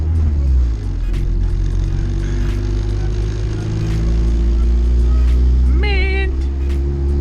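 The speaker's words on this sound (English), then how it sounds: "I'm just kind of driving this EG hatch one more time" Honda Civic EG hatchback driving along with a steady low engine hum and road rumble throughout, a brief rising whine near the end, continuous and close.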